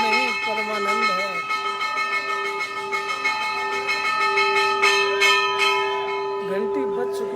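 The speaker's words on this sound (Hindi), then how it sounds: "घंटी बज चुकी है।" A temple bell at the Barsana Radha Rani temple rings continuously with sustained metallic tones, layered over a crowd and singing voices.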